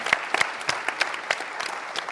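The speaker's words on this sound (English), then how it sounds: "Let's give them a round of applause." Scattered applause from a conference crowd in Istanbul, greeting guests who travelled a long way; distinct claps with a small audience, fairly close and steady for about two seconds.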